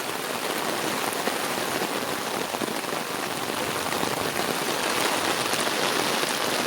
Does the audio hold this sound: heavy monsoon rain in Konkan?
yes